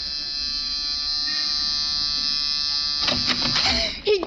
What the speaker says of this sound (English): Try the buzzer, Muggavan.